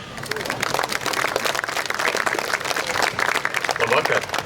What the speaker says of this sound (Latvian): Šobrīd vārds tiek dots Liepājas vicemēram Jānim Džeriņam ar aplausiem.